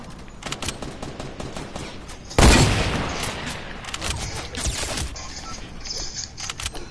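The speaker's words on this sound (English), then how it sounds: "Spamming grenades." Grenades spammed in a team shooter game: a sharp, loud blast cuts through continuous crackling gunfire, then more scattered explosions and shots rumble on behind.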